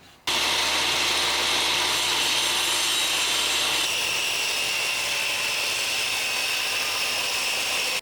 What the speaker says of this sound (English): The piece of ply is now cut to size, as you can see.